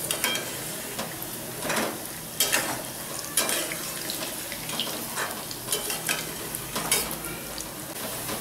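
Lentil balls frying in hot oil for a Chettinad paruppu urundai kuzhambu, browning in the pan with a steady close sizzle and occasional stirring scrapes, broken by brief louder crackles, with no talking.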